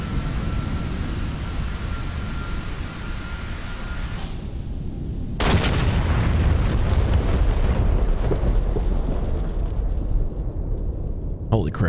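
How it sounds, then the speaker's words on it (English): Simulated GBU-24 laser-guided bomb exploding in the DCS flight game, a sudden loud broadband blast cutting through steady jet and engine rumble, followed by a long roaring noise that slowly thins out. "that was some big boom"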